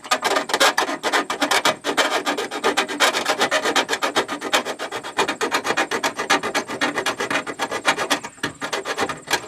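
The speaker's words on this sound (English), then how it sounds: "If you can't get in there with the file, that's where you want the round file" A round file rasps back and forth across a sharp edge to clean it up, with quick, steady, close strokes and no talking.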